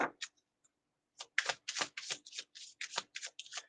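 Tarot cards are shuffled close up in a rapid series of crisp riffling bursts, quiet and dry with short gaps between them.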